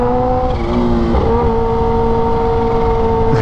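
A loud, piercing sportbike engine roars continuously at close range, holding a steady high-pitched drone with slight pitch shifts as the rider moves along roads.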